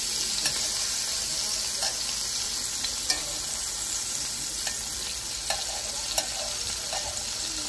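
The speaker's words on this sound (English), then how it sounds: "So basically I'm gonna fry those in the bacon grease and see how I like it." Organ meat frying in bacon grease gives off a constant hissing sizzle, with a few soft clicks and light stirring taps scattered through it, fairly close and without talk.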